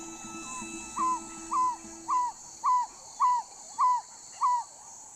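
An African barred owlet gives a steady series of soft, evenly spaced cooing hoots, seven notes in a regular rhythm against a faint hiss of insects in the trees.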